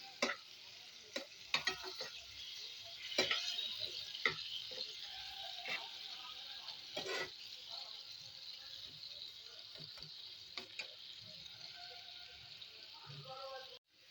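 Water with ground onion, cashew and ginger poured into a hot pan of egg curry, a steady sizzle with stirring clinks and scrapes, under occasional speech.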